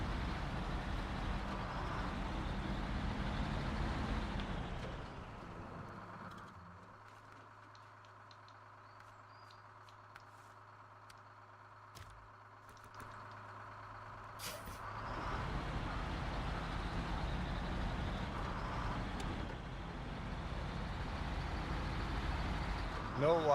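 A truck's engine drones loud and steady in a truck-driving video game, with hissing brake bursts. The rumble drops to a quieter, muffled hum for a stretch in the middle before returning at full volume.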